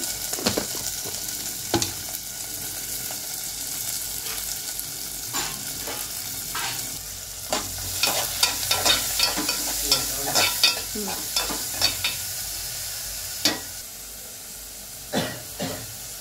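Vegetables with salt frying and sizzling in a pan, a steady hiss with a string of sharp stirring scrapes and clinks that grow busier toward the middle, with no talk.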